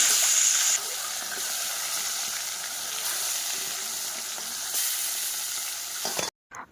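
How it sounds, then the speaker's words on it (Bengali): Fish, a piece of pona, frying hard in a home kitchen pan: a loud, steady, dense sizzle and hiss that runs unbroken, swelling slightly near the end before cutting off abruptly. "আর এদিকে এখন মাছ ভাজাটা বসিয়ে দিব"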